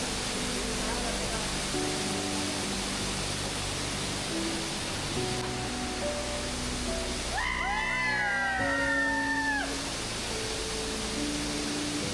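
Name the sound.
waterfall at Pendhari village in Konkan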